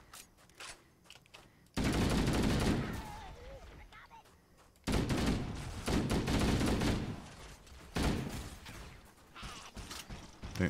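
Bursts of gunfire in a video game as shots are aimed at trees, loud rapid volleys in several separate spells with quieter gaps, a voice occasionally heard in the background.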